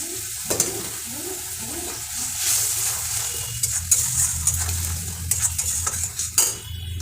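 Turmeric, salt and other powdered spices fry in oil for a katla fish kalia while a spatula stirs and scrapes the pan, producing moderate sizzling with irregular metallic scrapes and knocks.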